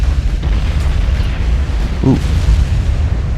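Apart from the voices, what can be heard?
naval gunfire in video game Ultimate Admiral: Dreadnoughts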